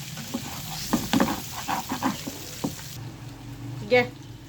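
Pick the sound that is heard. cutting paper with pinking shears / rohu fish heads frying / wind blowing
rohu fish heads frying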